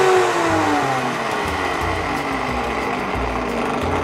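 A Jowsua Super Blender KMT200 high-power juice blender runs at its lowest speed setting, giving a steady close whirring motor hum with a whiny edge that holds on without a break and without any voices.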